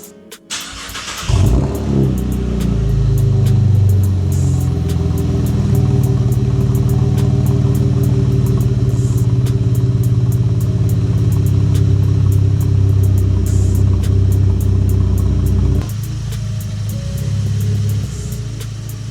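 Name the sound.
Chevrolet Camaro engine cold start and revving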